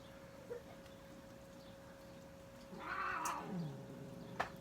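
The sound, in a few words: cats fighting in the background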